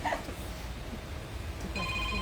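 A telephone starts ringing late, with a steady electronic tone rising over a quiet room murmur.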